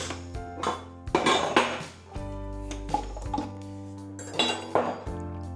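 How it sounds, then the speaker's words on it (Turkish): Metallic clanks and clinks of an Electrolux E5KM1-6GBP kitchen machine being handled, with a few sharp clicks as its latch locks among the clatter, close and moderately loud. "Ona basıp indiriyorsunuz ve klik sesi geldiğinde cihaz tamamen kilitlenmiş oluyor"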